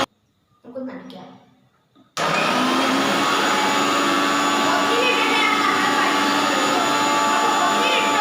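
A blender whirs papaya into a shake, starting abruptly after a brief spoken remark and then running as a loud, constant, high-pitched motor drone with the fruit churning inside.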